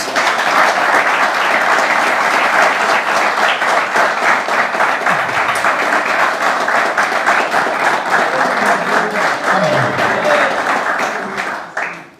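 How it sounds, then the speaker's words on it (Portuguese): A church congregation gives a long round of applause. Steady massed clapping continues for about twelve seconds at full strength and fades out at the very end. "Os irmãos podem dar uma salva de palmas para Jesus?"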